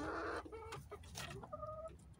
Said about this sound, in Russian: Вот курица.